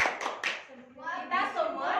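A primary school class claps in rhythm during a lesson, with a few sharp hand claps at the start followed by children chanting together in a sing-song voice.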